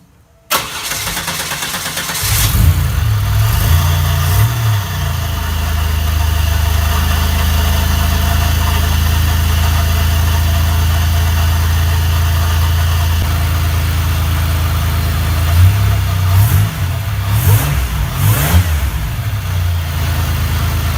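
A 1997 Pontiac Grand Prix GTP, fresh from a spark plug change, cranks and catches almost at once, then settles into a steady, close idle with a few brief revs rising and falling near the end.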